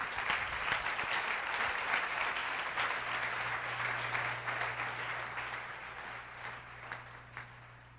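Sustained applause from a church congregation at a Sunday service, steady and full for several seconds before gradually thinning out, with a low hum running underneath.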